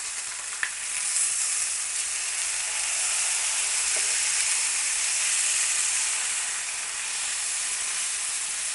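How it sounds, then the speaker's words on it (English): Steak for braising browning in a hot pan after being turned, a loud continuous close sizzle and hiss throughout with a couple of tiny pops and no talking. "So I've turned it over, I'm going to brown the other side."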